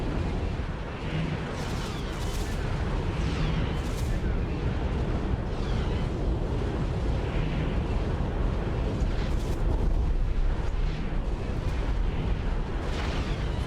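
Space combat in the X4 video game, with fighters destroying a large vessel near a carrier: a dense, continuous rumble of explosions and weapon blasts, loud throughout, with repeated bursts and booms layered over each other.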